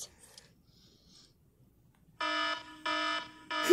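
An alarm clock sounds in three evenly spaced, bright electronic beeps after a stretch of near silence.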